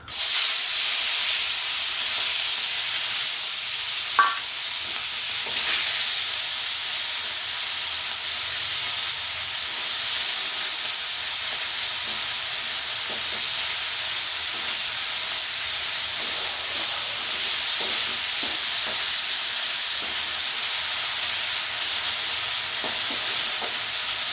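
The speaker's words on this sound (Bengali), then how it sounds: "দিয়ে আমি চিংড়ি মাছগুলো এতে দিয়ে দেবো" Shrimp fry in about a teaspoon of hot oil for a Bengali kochur loti chingri dish, giving a loud, continuous close-up sizzle and hiss with a brief utensil clink early on and no talking.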